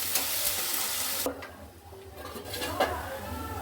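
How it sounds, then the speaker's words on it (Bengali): Steady sizzling of onions frying in a pan, with a few clinks of utensils and stirring scrapes; no talking. "এই পেঁয়াজটাকে আমি খুব ভালো করে ভেজে নেবো।"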